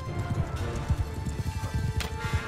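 Horse hooves thudding in a steady, rapid gallop rhythm in the Mount and Blade Bannerlord video game, close and fairly loud, with a brief whinny-like burst near the end and no talk.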